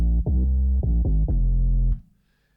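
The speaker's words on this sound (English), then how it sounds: "There's also a bass sound" A distorted synth bass with EQ trimming the highs and sidechain compression, playing loud pumping repeated notes in a choppy rhythm for about two seconds, then cutting off abruptly into silence.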